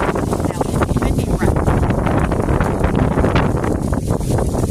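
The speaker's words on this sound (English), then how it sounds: "all of the leaves are blowing. It's windy." Steady gusts of wind rush and rustle through foliage, with buffeting noise against the microphone and a voice speaking faintly underneath.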